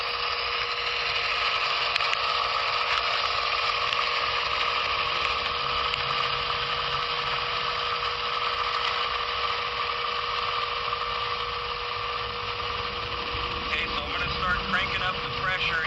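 An air compressor runs continuously, a loud steady mechanical drone with a high whine that holds even as the pressure builds, close by with little change over its length.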